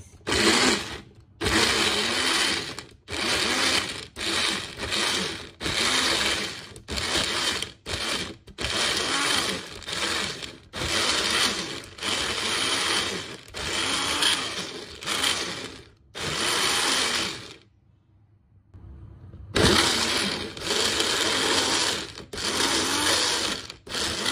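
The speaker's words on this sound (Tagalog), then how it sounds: "I-blend natin ang ating fresh ingredients." An electric blender whirs in strong pulsed bursts with short pauses as it purees fresh marinade ingredients for Malaysian-style spiced fried chicken wings; a longer silence falls midway before blending resumes.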